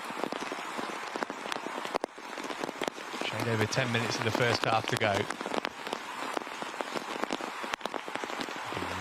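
Heavy rain pours steadily over an outdoor football pitch during a youth league match between Chelsea and Malmö, a dense hiss of downpour running beneath a commentator's ongoing talk.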